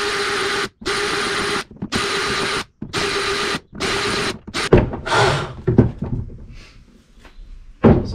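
A power drill drills into a cargo box in several bursts, each a few seconds long, loud and close, then stops, leaving some clattering and handling noises.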